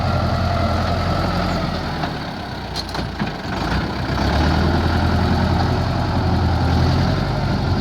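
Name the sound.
tractor engine running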